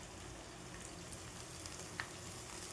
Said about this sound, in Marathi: याच्यामध्ये गाजर पण घालून घेते. हे पण आपल्याला छान परतून घ्यायचं.